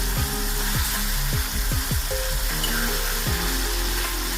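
Cumin seeds and tomatoes roasting in ghee give a steady close sizzle, with a handful of scraping stirs cutting through the frying hiss at irregular intervals.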